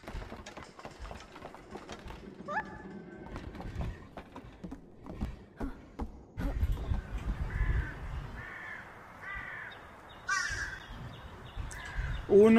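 Crows in the video game My Memory of Us caw repeatedly in a series of harsh calls, fairly close and clear over a low ambient game background, with no talking.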